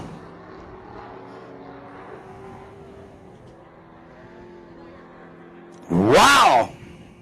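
An off-road race truck at a regional desert race holds the throttle through a corner, its engine droning faintly at a distance before a loud, sharp surge of revving passes close for about a second near the end.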